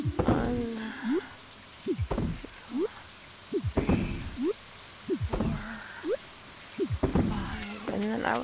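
Rain falls in the Stardew Valley farming game as a soft patter, with frequent frog-like croaks and chirps repeating in short bursts over the top.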